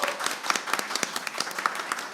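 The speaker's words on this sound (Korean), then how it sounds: "박수 부탁드리겠습니다" Audience applause at a two-wheeler motorcycle showcase event: a crowd claps steadily for about two seconds, with dense, irregular hand claps at moderate loudness.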